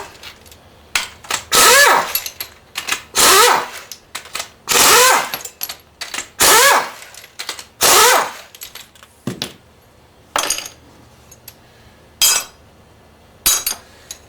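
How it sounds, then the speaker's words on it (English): Rocker arm studs are being worked out of Chevy big-block 454 high-performance cylinder heads with an air tool, producing a series of loud, close bursts of impact ratcheting separated by short pauses and lighter metallic clinks. "we're going to go ahead and remove all the rocker arm studs and all the push rod guide plates"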